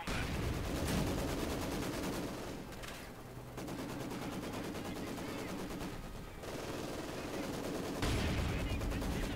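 Heavy machine gun firing in the Company of Heroes 2 video game during a 4v4 battle, sustained loud bursts of automatic fire with brief lulls and a surge of heavier shooting near the end.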